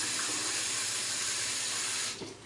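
Used photographic fixer for developing 120 film is poured out, giving a steady, loud liquid rush that cuts off near the end with a few trailing drips.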